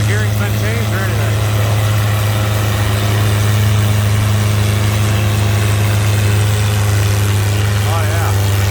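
A stock antique tractor engine runs steadily at a county fair tractor pull, a loud continuous low rumble dominating throughout, with people talking faintly over it.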